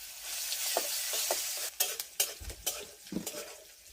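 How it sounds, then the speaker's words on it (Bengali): Onions frying in hot oil in a pan, a bright sizzle that gives way to a run of clattering spoon-on-pan stirs and scrapes. "তেল আমার গরম হয়ে যাচ্ছে। প্রথমে আমি পেঁয়াজগুলো দিয়ে দিই।"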